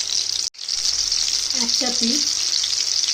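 Chilli chicken pieces deep-frying in hot oil on a gas flame make a loud, continuous close sizzle, briefly broken once near the start, with a short spoken phrase partway through.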